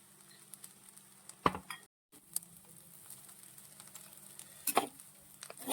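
Fried rice with chicken, egg and vegetables being mixed in a pan, topped with cashews and raisins, giving soft scattered patters and scrapes with a faint sizzle, a couple of louder knocks, and a brief silent gap.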